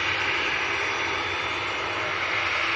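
A Ryanair jet airliner bound for Agadir, Morocco, roars steadily at an airport as a loud, broadband jet-engine rush holds without a break.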